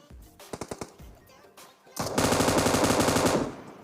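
An M249 machine gun in PUBG Mobile fires a few separate sharp shots, then a loud, sustained rapid burst lasting over a second, close and dominant.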